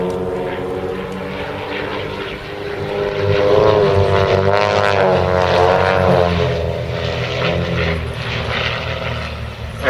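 A propeller aerobatic plane from the Wildcat Aerobatics team flies a loop at the East Kirkby airshow, its engine droning steadily and rising and falling in pitch as it climbs and turns at a distance.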